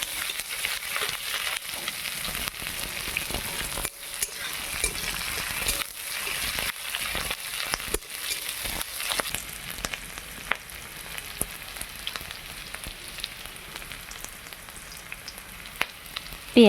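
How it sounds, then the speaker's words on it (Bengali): Chopped onions fry in a pan for chicken feet curry, browning in oil with a steady, quiet, broadband sizzle and a few faint stirring clicks, no voices. "এখন দিয়ে দিলাম পেঁয়াজ কুচি"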